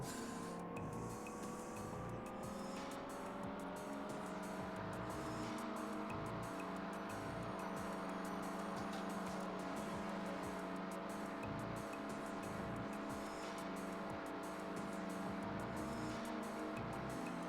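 KITT, the Knight Rider car, engaging turbo boost in a racing game: a sustained, loud engine roar with a rising whine and steady rushing noise running throughout, with no one talking.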